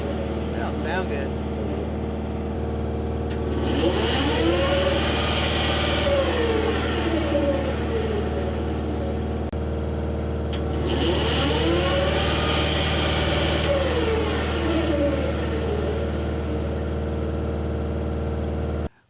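A hydraulic brush mulcher mower attachment running on an excavator at about three-quarter flow, mowing a pond dam: a steady mechanical engine drone throughout, with someone talking over it for long stretches.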